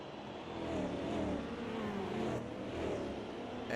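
A line of race cars speeds down the long Monza straight in a racing video game, their engines merging into a steady rushing drone that swells and fades slightly, moderately loud with no talk.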